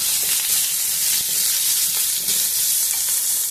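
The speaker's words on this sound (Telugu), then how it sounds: "ఈ ఉల్లిపాయలు ఇవన్నీ కొంచెము వేయించుకున్నాము." Thinly sliced long onions fry in a pan, giving a loud, continuous, dense sizzle that stays steady throughout with no voices.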